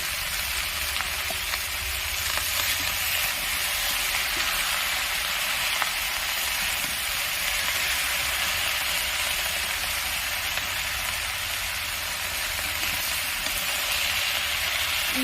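Mixed vegetables with a fish head frying in a pan, giving a steady, dense sizzle that holds without pause, with only faint traces of gentle stirring.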